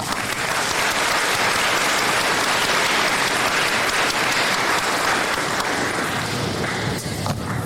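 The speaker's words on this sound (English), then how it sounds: "Give yourself an applause," A large graduation crowd at a high school ceremony claps loudly and continuously, a thick unbroken roar of applause that stays full before thinning slightly at the very end.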